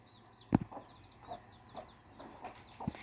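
Newly bought hens on a small farm give soft, scattered clucks and low throaty calls at a moderate distance, interrupted by a few brief knocks, against a quiet background.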